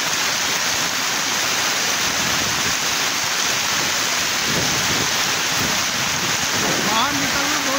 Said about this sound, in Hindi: लेकिन प्रयाग से बहुत तेज हो रहा है बारिश।